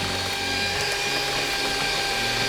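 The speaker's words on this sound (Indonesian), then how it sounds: "ini sengaja aku pakai hand mixer agar teman-teman gampang mengaplikasikannya di rumah ya." An electric hand mixer beating red velvet roll cake batter, a loud, steady motor whir with a constant hum and slight grinding, continuous and close throughout.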